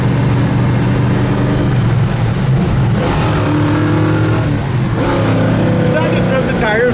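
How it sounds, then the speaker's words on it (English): A 1966 Pontiac GTO engine revs loud and close as the driver downshifts, its deep rumble swelling through a couple of rising pulls with steady engine drone underneath. "Did that just rip the tires loose when I downshifted"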